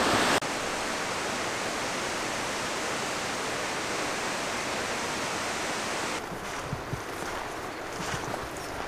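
A waterfall on a mountain slope of Ringvassøya sends out a continuous rushing roar, steady and fairly distant, with the wash thinning slightly near the end.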